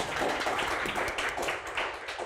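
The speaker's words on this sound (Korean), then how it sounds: "2시간 동안 열강해주신 저희 대표님께 다시 한번 큰 박수 부탁드리겠습니다." An audience claps after a two-hour lecture on startup business plans, a brief burst of dense, lively applause heard close.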